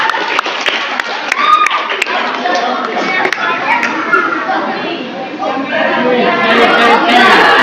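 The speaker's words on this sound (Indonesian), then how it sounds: "Tepuk tangan." Applause and scattered clapping from a room full of children, with lively chatter running through and rising toward the end.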